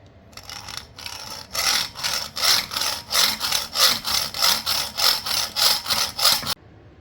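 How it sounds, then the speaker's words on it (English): A hand saw rasps through wood in quick, even back-and-forth strokes, about a dozen in a row, close and loud, sawing the corners off a piece for a model boat trailer. "And now I'm going to saw off the corners."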